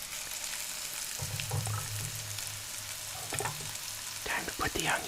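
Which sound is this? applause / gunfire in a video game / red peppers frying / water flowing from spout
red peppers frying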